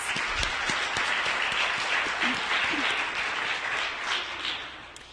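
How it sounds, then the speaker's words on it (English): An audience at a plenary session claps in a dense, continuous round of applause with a few heavier nearby claps, tapering slightly toward the end. "Let's give them all a round of applause."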